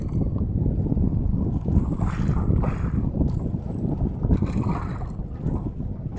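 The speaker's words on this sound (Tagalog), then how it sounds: "medyo malakas nga lang talaga ang amihan ngayon dito sa laot" Strong northeast monsoon wind sweeps over a fishing boat at sea, with a loud, constant roar and buffeting against the microphone and the rumble of water and the hull underneath. No one speaks.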